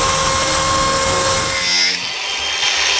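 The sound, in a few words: power tool running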